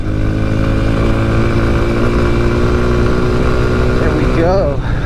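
A Honda dirt bike engine held at full throttle, a loud, close, steady high-revving drone that stays constant throughout, rising briefly in pitch near the end.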